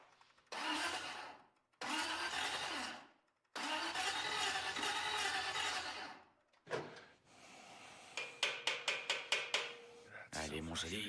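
A long-tinkered custom garage car engine cranking and trying to start: several long grinding cranking bursts separated by pauses, then rapid rhythmic sputtering pulses as it nearly catches, fairly loud and close.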